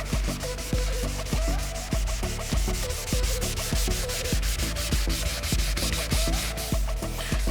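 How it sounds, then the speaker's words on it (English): Rhythmic back-and-forth hand wet sanding of paint on a Ford Escort Mk2 RS2000 to flatten orange peel, a steady rasping rub repeating about twice per second, close and continuous, with no voices. "you're sanding the paint"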